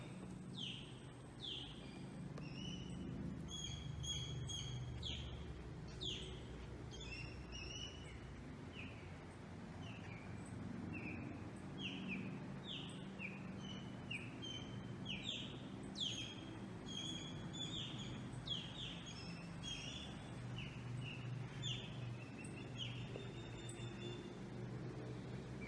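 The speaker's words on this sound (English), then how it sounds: "Let's see if we can hear some birds." Woodland birds along the Tamiami Trail, US Highway 41, chirp and whistle in repeated short bursts of varied calls, fairly distant over a low steady background rumble, with no one speaking.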